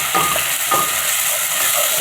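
Garlic and capers fry in oil in a pan with a loud, steady sizzle and crackle. A few brief stirring scrapes break through near the start. No one speaks.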